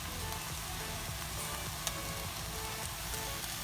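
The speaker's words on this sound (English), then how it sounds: "Now I'm going to add in the tomato paste." Tomato paste added to a pot of beef or lamb stew brings a continuous close sizzle with faint stirring scrapes and one small clink, all fairly quiet and without voices.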